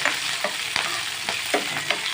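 Moringa leaves and vermicelli fry with curry leaves in a pan for upma, a continuous sizzle broken by rhythmic stirring scrapes, close and fairly loud.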